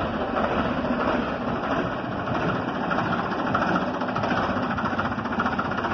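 A modified Ford 3600 tractor engine idles nearby with a steady, loud, even rumble and no change in pace, and no voices are heard over it.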